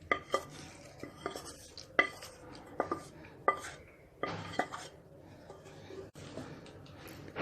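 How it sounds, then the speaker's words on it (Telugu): A spoon scrapes and knocks against a metal pot while cooled tempering is mixed into rice for raw tamarind pulihora, giving a series of close, sharp clinks and scraping strokes with uneven pauses between them. "చల్లారినటువంటి పోపును అన్నంలో వేసుకొని కలుపుకుందాం"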